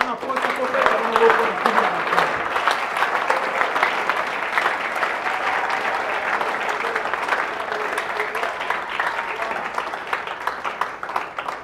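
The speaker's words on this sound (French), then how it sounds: "J'ai besoin d'abord qu'on acclame le roi des rois" Church congregation applauding and cheering to acclaim the King of Kings at a sermon, a sustained dense wash of clapping from a large crowd with voices mixed in.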